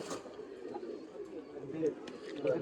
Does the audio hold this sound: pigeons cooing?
yes